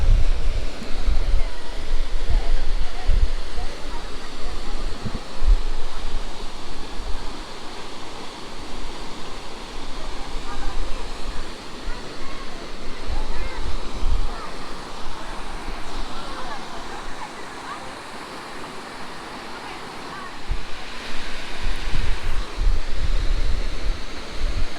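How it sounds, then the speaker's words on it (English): Water pours through rocks and down a second tier of a waterfall on a hiking trail in Oklahoma, a constant close, broadband rushing roar with low wind thumps on the microphone throughout. "the water's coming through the rocks and down on this second fall here"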